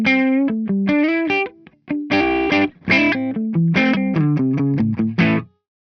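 Gibson Les Paul electric guitar in the middle pickup position, played through an amp model with reverb off: a loud, driven run of picked notes and chords, dry and upfront with short pauses between phrases.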